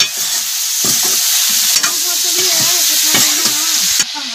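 Jackfruit curry fries and sizzles in a pan in a village kitchen while a spoon stirs it, steady frying hiss with repeated scraping strokes, close and loud, no talk.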